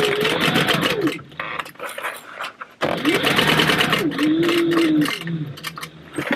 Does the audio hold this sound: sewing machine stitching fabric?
yes